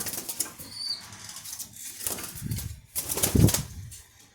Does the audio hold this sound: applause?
no